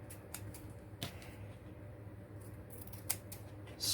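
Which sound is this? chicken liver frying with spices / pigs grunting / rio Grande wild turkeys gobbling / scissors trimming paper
scissors trimming paper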